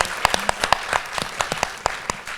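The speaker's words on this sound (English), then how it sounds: "Let's give her a round of applause," Scattered clapping from a small audience at an education roundtable, sharp distinct claps in an irregular rhythm, fairly close and with no talk over it.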